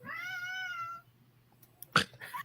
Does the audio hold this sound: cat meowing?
yes